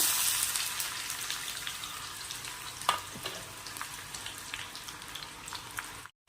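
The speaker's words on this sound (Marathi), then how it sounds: "तेल तापलं तर आता एक कांदा टाकायचा आहे बारीक कट केलेला" Finely chopped onion hits hot oil with a bright burst of sizzling that slowly settles into a steady crackle, broken by one sharp stirring knock midway before it cuts off.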